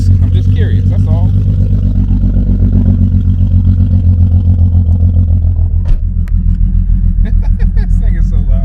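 A BMW E36 convertible engine running rough on five cylinders while driving, a loud steady lumpy drone with clattering, a voice talking over it briefly near the start.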